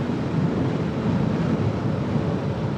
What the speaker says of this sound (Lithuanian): Vėjas tik pučia priešinis į kūną.